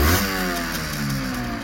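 A 1982 Honda MTX 50 motorcycle, engine still cold, is given a short rev, the small two-stroke buzzing loud and close before easing off slightly.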